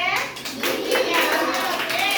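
Young children in a pre-primary classroom clap their hands during a statue game, a dense and steady patter of many small hands mixed with their chatter and calls.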